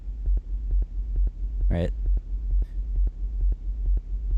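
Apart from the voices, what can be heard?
sine wave sub bass pulsing under a techno kick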